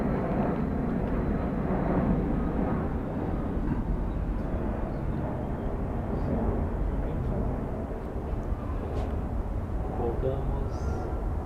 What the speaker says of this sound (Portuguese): só esperar o avião passar